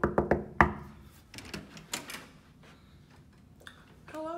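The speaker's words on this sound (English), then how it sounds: "You gotta knock first," Knuckles rap on a hotel suite door in a quick burst of loud, close knocks, then a second scattered round, with a greeting voice rising near the end.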